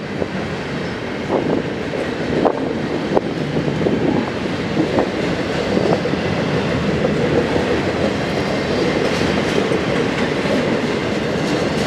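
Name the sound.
freight train passing on tracks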